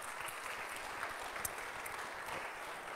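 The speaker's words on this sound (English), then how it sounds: "Let's give him a hand clap." A church congregation claps for a worship service participant, a steady dense wash of many hands applauding together at moderate level for the whole stretch, with no talking over it.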